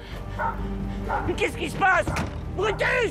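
A dog barks several times, loud and nearby, mixed with thumps, while someone speaks over it.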